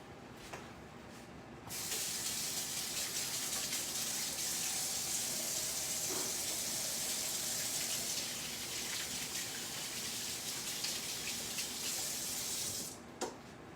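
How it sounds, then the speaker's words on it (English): Water heating toward a boil gives a steady, broad hissing rush that starts abruptly, holds evenly for about eleven seconds, then cuts off, quiet and close, with no voices. "I hear the noise starting to boil."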